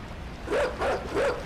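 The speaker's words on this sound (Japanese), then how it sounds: "あ、犬吠えてる。" In the game INSIDE, a fierce dog barks three times in a quick, even rhythm, some way off over a quiet, dark background.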